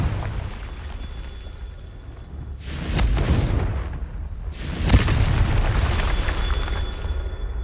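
Confringo, an explosive fire spell in Hogwarts Legacy, going off twice: two booming blasts roughly two seconds apart, each trailing into a rumbling roar over a steady game background.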